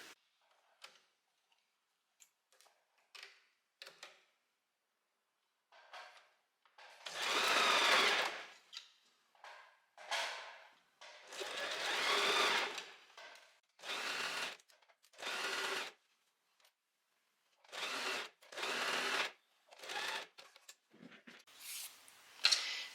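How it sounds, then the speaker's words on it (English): A domestic sewing machine stitching around a dress sleeve, running in repeated bursts of rapid mechanical ticking, some brief and some several seconds long, close and separated by quiet pauses. "So I'm just going to start sewing here, so all the way around"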